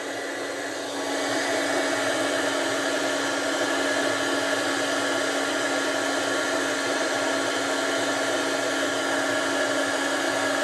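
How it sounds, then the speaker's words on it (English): A heat gun blows steadily on faux leather, a loud continuous whooshing roar with a constant electric hum that starts up about a second in and holds without pause. "and then you bring in your heat gun."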